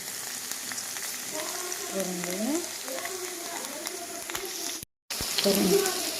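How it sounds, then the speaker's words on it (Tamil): Okra sautéing in a pan for a tamarind curry gives a steady low sizzle with occasional stirring scrapes, a brief silent gap near the end, then resumes under faint background voice. "நம்ம நல்லா வதக்கிக்கணும் நல்லா இந்த ஸ்டேஜ் போகிற வரைக்கும் நல்லா வதக்கிக்கணும்"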